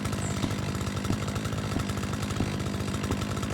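A string trimmer in the video game Lawn Mowing Simulator buzzes steadily with a harsh motor drone, pulsing slightly, loud and continuous.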